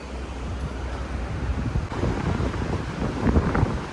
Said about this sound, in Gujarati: પવન આવે છે જોરદાર.